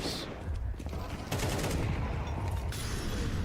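Rapid rifle gunfire crackles in a Counter-Strike 2 match at the Shanghai Major, dense bursts of shots filling the clip alongside faint voices in the background.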